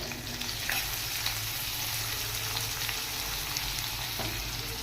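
Onions frying in a pan with oil, a steady loud sizzle and crackle overlaid with occasional scraping as a utensil stirs them, close up and without speech.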